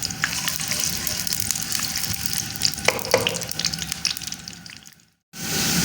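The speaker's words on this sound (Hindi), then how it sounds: "कढ़ाई में और अब हमने इसमें शामिल किया प्याज। प्याज को हम कर लेते हैं लाइट ब्राउन।" Onions sizzle in ghee in a kadhai as they cook to light brown, a steady crackling fry with a few sharper pops, cutting out briefly near the end before the sizzle resumes.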